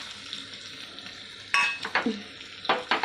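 Green chilies and curry leaves temper in hot oil, giving a soft, close sizzle broken by a few sharp crackling bursts and utensil scrapes; no voices.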